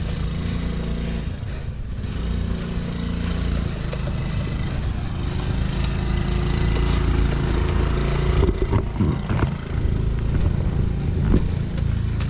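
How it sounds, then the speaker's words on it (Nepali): A scooter's engine as it rides a rough mountain road near Chisapani and Sundarijal in the Shivapuri hills of Nepal: a steady, close engine drone running the whole time with bumps and rattles, no talk. "स्कुटर यस्तो बाटोमा ल्याउन सफल भएका छौँ हामी"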